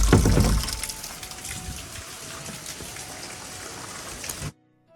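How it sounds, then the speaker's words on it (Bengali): Storm rain pours down steadily outdoors, a dense hiss that starts with a heavy gusty burst, then settles into constant patter before cutting off abruptly. "আবার ঝড় শুরু হয়েছে বেশিক্ষণ থাকা যাবে না"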